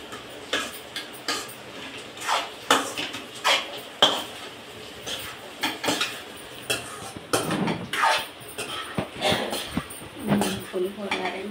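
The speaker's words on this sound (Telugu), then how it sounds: "కొద్దిగా మగ్గినాక ఒక్కసారి కలుపుకుందాం." A ladle stirs pulihora in a metal pot, with repeated scraping clinks and knocks at an irregular pace, close and moderately loud, while someone talks in the background.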